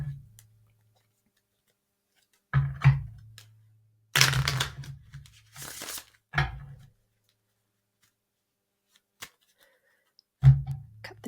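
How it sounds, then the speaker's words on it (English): Several short bursts of a deck of cards being shuffled, separated by silence in a quiet room. "I'll do another shuffle."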